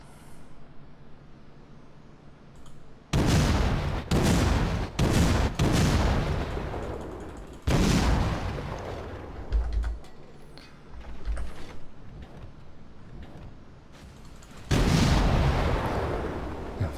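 Ship guns in the World of Warships naval game, a Sims tier VII destroyer, boom out in several loud, heavy salvos separated by short gaps, each blast trailing off into a rumbling roll.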